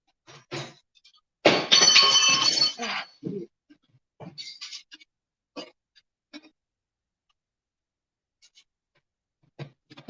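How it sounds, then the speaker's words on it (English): Dishes are washed at a home sink, with sporadic clinks and clatters of dishware, one longer burst of running water or scrubbing, and quiet pauses between the sounds. "I'm listening while I do my dishes."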